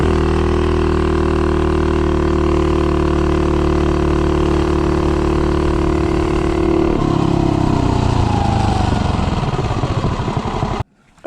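Car with an Autolite racing spark plug accelerating from 0 to 30, engine droning loud and close, then pitch rising steadily through the run before cutting off abruptly at the end.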